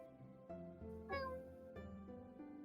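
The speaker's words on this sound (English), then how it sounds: "That's a cat." A cat meows a few times nearby, drawn-out and rising, fairly quiet in an indoor room with faint background sound.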